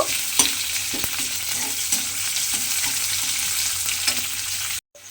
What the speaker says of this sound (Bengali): পেঁয়াজটাকে একটু ভেজে নিতে হবে